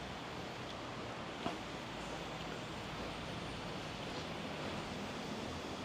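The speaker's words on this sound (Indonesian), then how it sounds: "Dan ini aliran sungainya, sungai berantasnya." Water of the Brantas river flows beneath a bridge at Kepanjen, heard as a steady, broad rushing wash that holds even throughout, with one brief soft knock partway and no voices.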